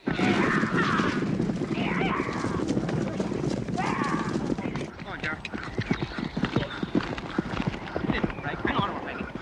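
Horse hooves clip-clop in a steady, close rhythm on a film set, with occasional whinnies and people talking over the hoofbeats.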